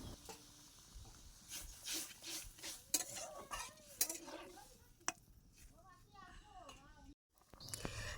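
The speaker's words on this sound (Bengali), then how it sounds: "এখন আমি পাতাগুলো ভালোভাবে কষিয়ে নেব" Mint leaves being sautéed in a pan are stirred with a utensil, making repeated scraping and clinking strokes. A voice talks over the stirring at intervals.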